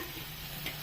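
Onion and tomato sautéing in a pan, a steady soft sizzle with faint stirring scrapes, close and continuous with no talk.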